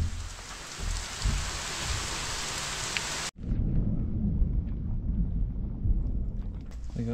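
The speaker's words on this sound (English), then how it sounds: "We got thunder." Thunder rumbling over steady heavy rain at an 18th-century sea tower 2 km offshore, a broad continuous roar that cuts out abruptly partway through, then returns as low rolling rumble with rain.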